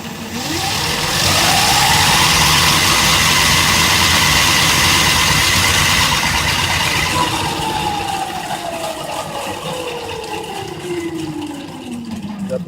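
An MBK 51 moped's rear wheel spins freely on a test stand, a close electric whine that rises in pitch as it speeds up, holds steady, then winds down with a falling tone.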